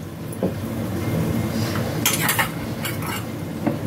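A metal lid is lifted off a cooking pot of roasted brinjal for bharit, giving a few light clinks and scrapes of metal over a steady background hiss.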